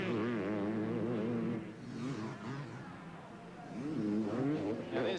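Motocross bikes race at the 1992 Motocross des Nations in Australia, their engines whining and revving continuously with rising and falling pitch, moderately loud under and between commentary.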